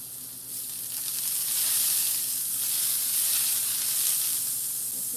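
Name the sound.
butter sizzling in a frying pan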